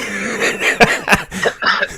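Several loud, close coughs burst out in quick succession, harsh and throaty, with no talking around them.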